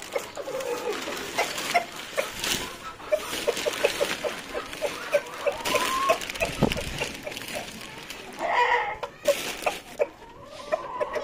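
Hen clucking and calling outdoors while a rooster answers from inside a coop, repeated irregular clucks and squawks over light background noise and occasional rustling.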